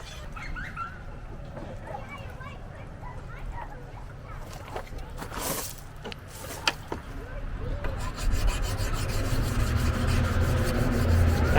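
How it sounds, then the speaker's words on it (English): A hand file rasps across a wood chipper blade, held flat to the top edge, in steady rubbing strokes that swell louder toward the end, mixed with scraping handling noise and someone talking over it. "And we're just filing it basically flat with the top of the blade."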